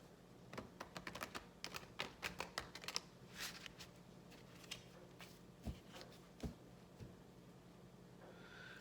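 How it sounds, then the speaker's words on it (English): Deck of oracle cards being shuffled, with soft close riffling and clustered flicks in quick bursts, then sparser taps in a quiet room. "So let's give these a shuffle."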